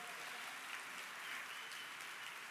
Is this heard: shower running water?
no